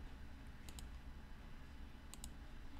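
A computer mouse is clicked twice in quick pairs, sharp faint taps spaced about a second and a half apart over a quiet background hum.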